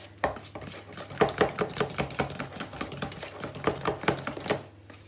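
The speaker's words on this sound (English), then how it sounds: "You can just give it a little mix together, make sure there's no lumps" A spoon beats thick blueberry muffin batter in a bowl, tapping and knocking against the sides in a quick, steady rhythm of close clacks lasting several seconds, with no voices.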